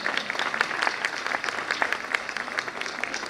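Parents clap for young prep-class children at a school annual function, a brief burst of scattered, uneven applause with individual claps standing out.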